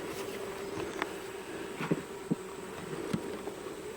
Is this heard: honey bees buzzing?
yes